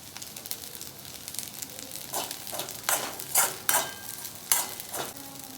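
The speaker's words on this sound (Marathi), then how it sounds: "साबुदाण्यामध्ये आपण शेंगदाण्याचा कूट मिक्स करून घेतला तर ते यामध्ये टाकून घेऊया मिक्स करून घेऊ" Sabudana mixed with crushed peanuts being stirred in a pan: a faint sizzle under a series of scraping spoon strokes that grow more frequent and louder toward the end.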